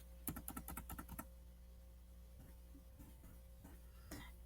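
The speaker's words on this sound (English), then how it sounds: "I'm going to put the words, or actually type the words, Merry Christmas." Quick bursts of keystrokes on a Windows laptop keyboard, a rapid run of about ten soft clicks followed by a few scattered taps, faint and close with no talking.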